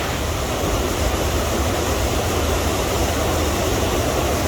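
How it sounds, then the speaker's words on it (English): A waterfall roars as a dense, steady broadband rush of falling water, loud and unbroken, with no voices. "That is a waterfall."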